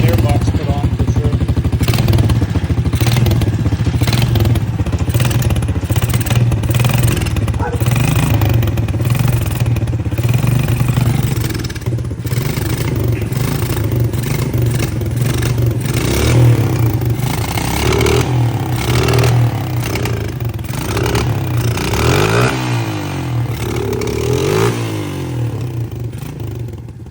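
Honda motorcycle engine idling steadily after starting, a loud continuous chugging rumble close by throughout, with someone talking over it.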